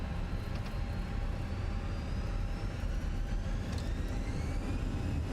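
Cars drive around outside a house, a steady, fairly faint engine rumble with passing whines rising and fading at a distance, and no one speaking.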